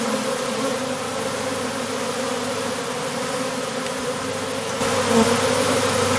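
A secondary honeybee swarm with few bees but many queens buzzes in a dense, steady, close drone that holds evenly and swells slightly near the end, with no talk.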